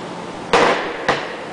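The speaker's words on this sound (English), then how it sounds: "using a small punch and a hammer" Two sharp metallic hammer blows on a small punch, driving the stationary part of a pump's mechanical seal out of the housing, spaced about half a second apart, close and loud against a quiet background.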